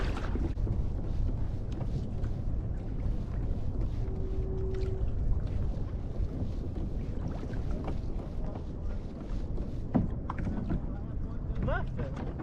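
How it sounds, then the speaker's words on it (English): Steady wind buffets the microphone throughout, outdoors on a kayak crabbing trip, a continuous low rushing with faint knocks and clicks, and no clear voices. "So the wind has actually started to pick up."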